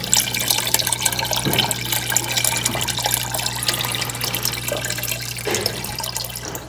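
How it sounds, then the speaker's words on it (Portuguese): Small aquarium filter pump running after being switched on, water trickling and splashing continuously close by with a steady low electrical hum underneath. "Vamos ligar aqui a bombinha aqui agora."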